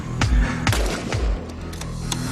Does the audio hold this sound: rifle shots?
yes